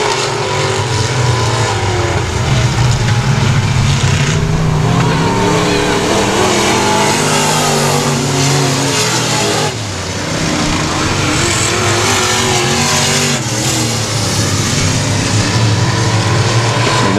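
Race cars circle the Texarkana 67 Speedway oval, a loud dense roar of many engines that rises and falls continuously as the pack passes, with faint announcer talk blended underneath.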